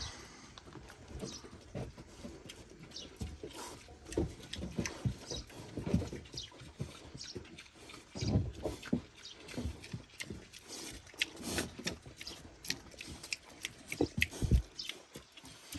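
Piglets eat eagerly during a long dry spell on a farm, with irregular crunching, munching and snuffling bursts close by and no talk.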